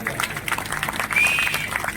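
A crowd claps at a political rally in India, with scattered, uneven applause heard alongside voices and a brief whistle.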